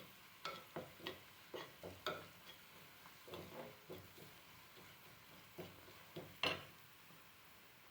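Chopped green beans land in a pan and get stirred, giving a soft, quiet sizzle broken by regular spatula scrapes and light taps against the pan.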